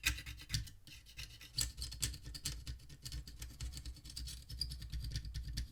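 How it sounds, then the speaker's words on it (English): A dental pick scrapes and rasps at rust on an early-1990s game console circuit board, a close, steady run of short gritty scratches with uneven pauses. "I am going to use this dental pick to help loosen up some of this rust."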